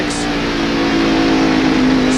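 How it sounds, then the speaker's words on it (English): A NASCAR stock car at Watkins Glen accelerates hard out of a corner in 1991, its engine a loud, steady, high-revving drone held close and constant throughout. "begins to stand on the throttle once again and accelerate up to 120, 135"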